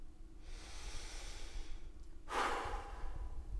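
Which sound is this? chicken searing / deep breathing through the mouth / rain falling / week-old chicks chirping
deep breathing through the mouth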